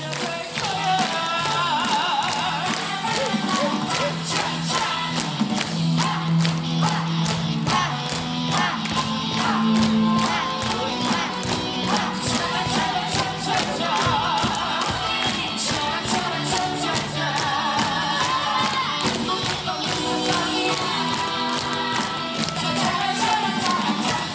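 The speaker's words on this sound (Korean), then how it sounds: "박수요, 박수. 힘차게. 세게 하셔야 됩니다." Audience at a lecture clapping hard in rhythm, a sustained dense burst of rapid hand claps from a crowd that continues without break, loud and close.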